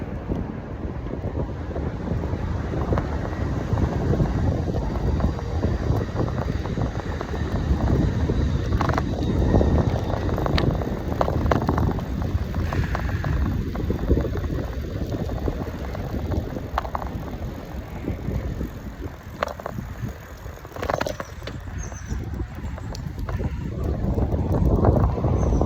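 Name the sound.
strong wind blowing while cycling along the bay trail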